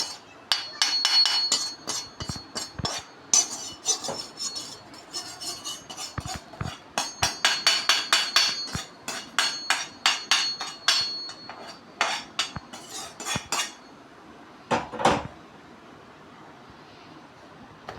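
Roasted semolina (rava) for upma being moved onto a plate, with frequent sharp metallic clinks and taps of a utensil against the plate and pan in irregular bursts, close and fairly loud, with no voices.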